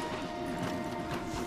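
Horse hooves clip-clopping in Red Dead Redemption 2, a faint rhythmic trot under ambient game sound.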